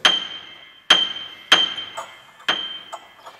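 Sharp metallic strikes ring out as a screw is fitted between piano strings to prepare a piano, four bright clinking hits with resonant string decay, close and alone.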